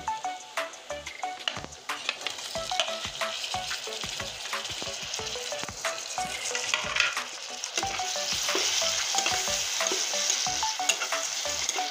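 Onion, garlic and cumin sizzle in a pan as chopped tomato is added, a steady crackling fry punctuated by repeated scraping stir strokes that grows slightly denser and louder toward the end, with no talking.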